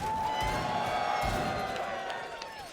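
Crowd at a CS:GO esports major semi-final arena chanting and cheering; a distant, sustained roar with a steady tonal chant running throughout, heard under the commentary voices.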